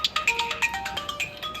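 Mobile phone ringtone playing a short bright melodic tune of repeated beeping notes, close and clear, alone with no talk.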